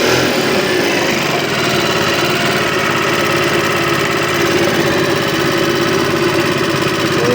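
A small engine runs after a key start, a loud, steady, dense drone that holds at an even level throughout with no pauses, close to the listener.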